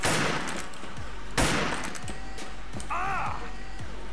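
Old-version gunfire in the online shooter Wolfteam: a heavy opening burst and a second loud blast, then repeated thudding shots in a steady rhythm, loud and close, over constant game noise with a brief voice-like tone near the end.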